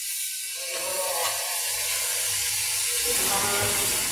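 Snakehead fish dropped into a pan of potatoes that have been sautéing a long while, giving a steady, close sizzling hiss that swells and holds for a few seconds.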